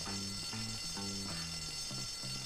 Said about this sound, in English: So the alarm will last a few seconds.